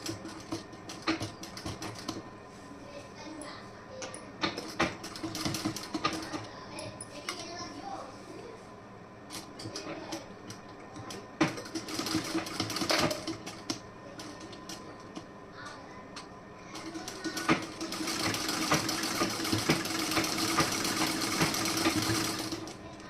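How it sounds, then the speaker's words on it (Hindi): A sewing machine stitches a blouse in a home tailoring setting, running in bursts of steady mechanical whirring and clatter, with brief pauses between runs and a longer continuous stretch near the end. "अब मैं इस पर सिलाई लगाऊंगी इस तरीके से।"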